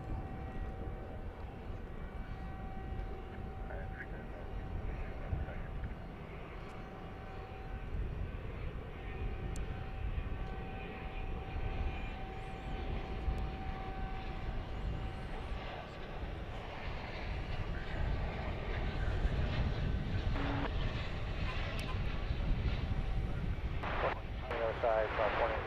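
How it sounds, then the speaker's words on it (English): Finnair airliner departing Helsinki at night, its jet engines a steady broad roar with a thin whine that builds slightly toward the end, heard from a spotting spot at DFW Airport with crowd or traffic noise underneath. "I'm talking about the Finnair flight from Helsinki"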